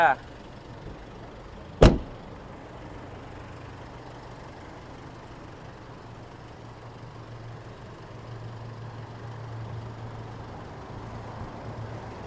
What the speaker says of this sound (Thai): ไม่ไงผมจะปิดประตูเด้